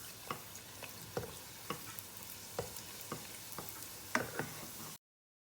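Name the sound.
msemen dough frying in hot oil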